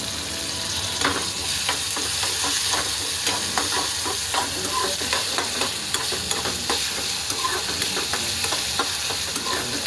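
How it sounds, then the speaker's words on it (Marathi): Onion and tomato fry in a pan for a cauliflower and potato curry, a dense steady sizzle broken by frequent scraping stirs and clicks, close and fairly loud with no talking. "कांदा परतून झाल्यानंतर टमॅटो टाकून देऊया आपण"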